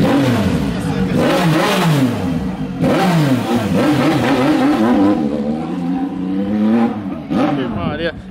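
Porsche engine revving loudly and repeatedly, its pitch sweeping up and down in waves, with people talking over it throughout.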